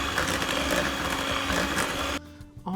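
An electric mixer beats oatmeal cookie dough with a steady, loud whirring drone, then cuts off abruptly near the end, leaving brief quieter handling sounds.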